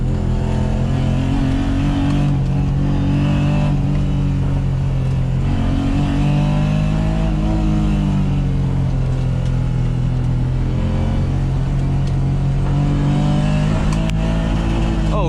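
A BMW E30's engine drones loud and close throughout a drive on a winding mountain road, its revs rising and falling continuously as the car accelerates and eases off.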